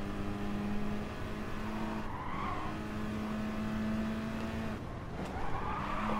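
A steady, droning race car engine in Gran Turismo Sport on PS4 holds a constant pitch throughout, with brief tire squeals and shifts in tone, loud and close.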